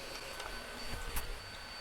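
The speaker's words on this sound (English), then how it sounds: "let's go ahead and auto home it again" A Creality Ender 3 V2 Neo 3D printer auto-homes with a steady mechanical whir and faint stepper hum, broken by a few soft clicks and a brief bump as the axes reach their stops, with no talking.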